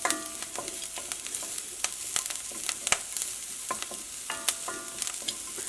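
Vegetables for a fried rice dish sizzle in a pan with turmeric powder while a spoon stirs, scraping and clicking irregularly over a steady close-up frying hiss.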